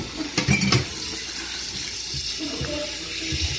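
Water pours from a tap into a cooking pot for boiling octopus, a steady splashing rush that gurgles loudly at first and then settles into an even, continuous stream close by.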